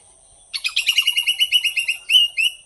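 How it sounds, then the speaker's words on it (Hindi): A squirrel gives a rapid, steady string of high, sharp chirping calls lasting a couple of seconds, close and clear, ending with a few louder chirps. "देखिए स्क्विरल कब से आवाज़ करती हुई।"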